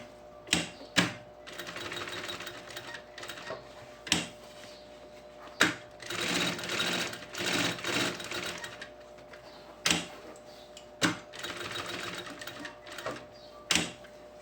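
Short bursts of a sewing machine stitch over the first seam of a fabric lunch bag panel, broken by sharp clicks and knocks between runs, close and steady.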